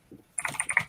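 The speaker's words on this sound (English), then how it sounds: "You have a loud keyboard." A loud clicky computer keyboard clatters in a quick burst of sharp keystrokes, preceded by a brief faint murmur, heard up close.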